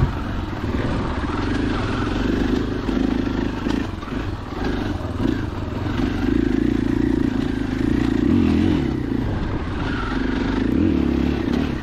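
A 2021 KTM 500 EXC-F dual-sport motorcycle ridden off-road alone, its engine droning steadily close by for the whole stretch with rising revs, clatter and scraping from rough ground and wind rush.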